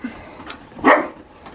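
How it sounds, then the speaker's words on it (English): A single short, sharp dog bark close by, with faint background noise before and after and no speech. "what are you barking at?"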